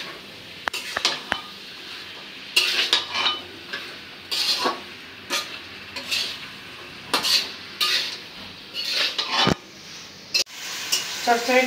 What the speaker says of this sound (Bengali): এখন চচ্চড়িটা দিয়ে একটু কষাই নিব।